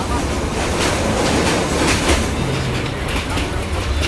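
Train moving on rails in Myanmar, a loud continuous rumble with rattling clickety-clack from the carriage and faint squeals, heard from on board and filling the whole stretch without talk.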